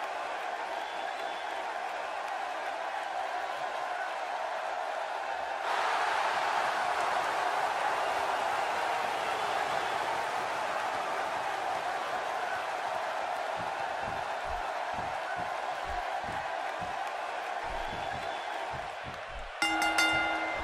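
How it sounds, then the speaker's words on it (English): A loud Boston arena crowd roars in WWE 2K16 as a wrestler walks to the ring, with a dense, sustained cheer that jumps louder partway through and holds steady, plus scattered thumps near the end. "Based on the electricity that's traveling through this arena and decibel level of the crowd"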